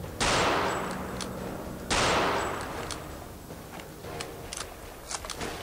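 Two loud, close FG-42 rifle blasts with long decaying tails in Return to Castle Wolfenstein, over a steady hiss of game ambience and faint clicks.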